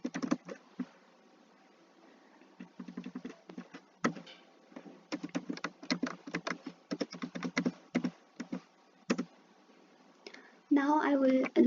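Close, quiet computer keyboard typing as a Linux tail command is entered, with bursts of rapid key clicks separated by short pauses. A voice speaks briefly near the end.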